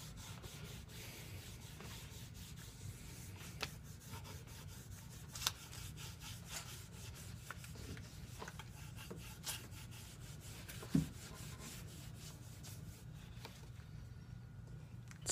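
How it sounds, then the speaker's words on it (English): A cloth rubs solvent off a wooden military surplus rifle stock with steady pressure, a continuous close scrubbing hiss with a few faint knocks, no talk. "you're going to rub the solvent off of the stock"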